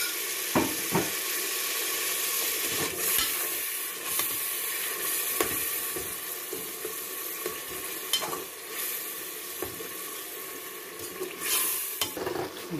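Pumpkin and green salad chillies frying in a pan for a pumpkin and chickpea dal, a constant hiss of sizzling broken by repeated scrapes and clicks of stirring, with no talk.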